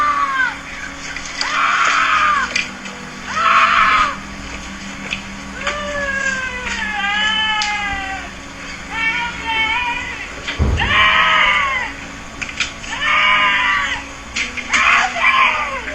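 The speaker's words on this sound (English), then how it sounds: "seemingly screaming in abject terror for help" A person screams in terror in a scary ghost video played back, with loud, wavering cries in repeated bursts over sixteen seconds and some background noise between them.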